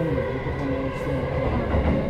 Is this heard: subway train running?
yes